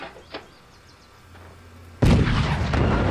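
Heavy artillery booms out in the video game Forts, a sudden loud blast that rumbles and rolls on after faint earlier thuds and quiet clicks.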